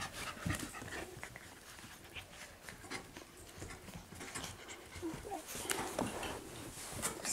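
Eight-week-old Mini Goldendoodle puppies panting softly and giving faint whimpers and small yips, close but quiet, with light rustling and handling noises throughout.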